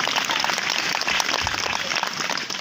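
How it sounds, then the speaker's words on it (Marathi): Dense, continuous applause from an audience at a devotional bhajan gathering, many hands clapping together at close range for the whole stretch, with faint crowd murmur underneath. "किती वेळेस टाळ्या वाजवल्या"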